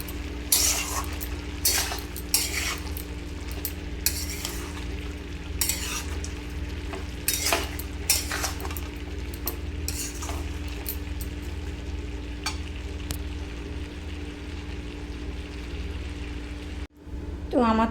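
A spoon stirs garam masala and ghee through banana stem curry in a hot pan, with continuous frying sizzle and repeated scraping, clinking strokes up close.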